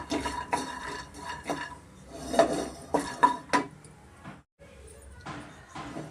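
Roasted nuts for dry fruit laddu are scraped from a metal pan onto a plate, a series of clattering metal scrapes and clinks in uneven bursts with a brief silent gap near the end, close and fairly loud.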